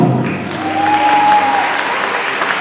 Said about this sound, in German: Applaus für Ahu